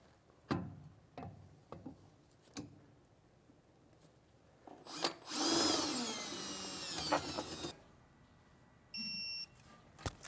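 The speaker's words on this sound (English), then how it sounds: "then we can go ahead and drill out the 4 locations on the side here." A power drill bores bolt holes in a truck frame to mount an RV leveling bracket: several short separate bursts, then one longer whining drill run, and a few electronic beeps near the end.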